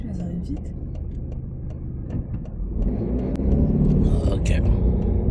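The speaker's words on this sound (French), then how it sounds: "Il y a des voitures, on attend, c'est tout. Mais c'est pas possible, elles arrivent vite." Cars passing fast on a road during a French driving test, a rumbling engine roar that swells louder toward the end as vehicles go by, with people talking over it.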